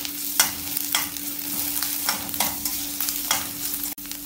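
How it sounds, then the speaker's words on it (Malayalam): Onion, garlic, ginger and chopped green chillies stir-fried in a pan for Kumbakonam kadappa: a steady low sizzle broken by rhythmic scraping strokes of the spoon about every half second, close and alone. "2 പച്ചമുളക് മുറിച്ചതും കൂടെ ചേർത്ത് വീണ്ടും ഇളക്കി വഴറ്റാം."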